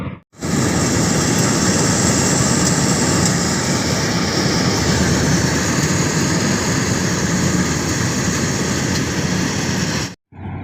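A harvesting machine cutting paddy rice in a field runs with a loud, steady mechanical roar that holds constant for about ten seconds before cutting off abruptly, no voices.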